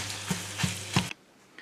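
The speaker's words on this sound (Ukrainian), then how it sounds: "Смажимо, смажимо, поки обсмажиться." Pork sizzling in a hot pan, with three brief scraping stirs at regular intervals before the sound cuts off abruptly.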